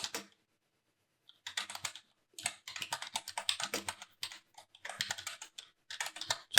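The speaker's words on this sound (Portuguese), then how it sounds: "Eu dou um enter, né, depois de digitar tudo" Typing on a computer keyboard during a lesson, close, fast bursts of key clicks separated by short pauses, ending with a firmer keystroke, with no talking.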